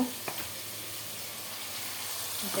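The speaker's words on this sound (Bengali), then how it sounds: "এখানে পেঁয়াজ তেল দিয়ে দিচ্ছি, এখানে রসুন দিয়ে দেবো" Chopped onions fry in hot oil in a home kitchen pan, giving a soft, steady sizzle and hiss throughout, with a small clink near the start.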